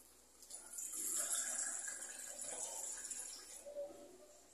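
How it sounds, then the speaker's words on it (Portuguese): Cups of water are poured into a pot of rice, a steady close splashing stream that swells and ebbs over several seconds with no voices. "Agora eu vou estar colocando aqui uma xícara de arroz e 2 xícaras de água"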